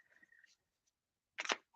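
Tarot cards shuffled by hand in a quiet room: a short, loud burst of riffling card noise near the end, after a faint voice murmurs at the start.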